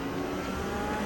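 BMW race car engine in the RaceRoom sim racing game, a steady droning mid-pitched engine note held at constant revs for about a second, close and continuous with no talk.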